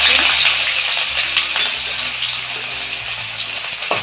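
Chopped onion goes into hot oil already used for frying fish, tempering for a mixed winter vegetable chochori. The sizzle is loud and close, with sharp metallic clinks of a utensil and a thump near the end.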